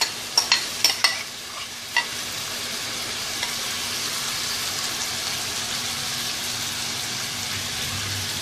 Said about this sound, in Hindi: अब इनको 2 मीडियम फ्लेम के ऊपर एक पैन में रखेंगे ऐसे। बची हुई मैरिनेशन भी इसमें शामिल कर देंगे।